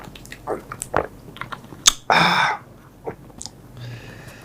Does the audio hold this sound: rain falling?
no